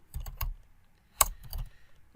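Typing on a computer keyboard, with quick bursts of close, crisp key clicks separated by short pauses, with no talk.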